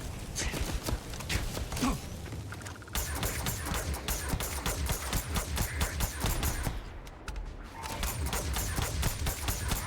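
Rapid automatic gunfire from a weapon in the sci-fi video game Starfield, loud dense bursts of quick repeated shots running almost continuously, with a brief pause and a few short gaps between volleys.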